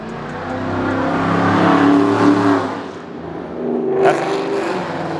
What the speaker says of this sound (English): That's a great sounding Mustang right there.